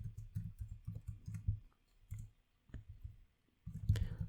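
Keyboard typing while writing Node.js code for a blog REST API: rapid bursts of close keystroke clicks, pausing briefly around the middle, then resuming in a louder flurry at the end, with no speech.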